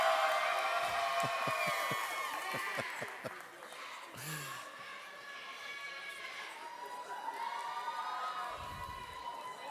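Crowd at a FIRST Robotics district competition in Severn, Maryland cheering and shouting for the Red Alliance, a sustained roar of voices in a large hall with scattered claps and a few whoops rising above.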